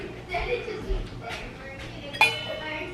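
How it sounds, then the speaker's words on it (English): Brown rice fusilli noodles clatter into a pot of broth, a few light clinks and taps against metal, ending in one sharper clink, while a voice talks faintly in the background. "I'm gonna add the noodles."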